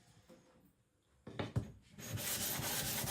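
A Victorinox Chinese cleaver is rubbed flat on a sharpening stone with quiet scraping strokes, faint at first, then a couple of louder swipes and a sustained, dense rasping grind.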